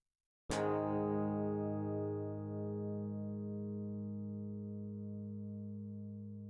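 A clean electric guitar chord through a compressor is struck once after a brief silence, then rings out evenly with long, steady sustain and only a slight fade.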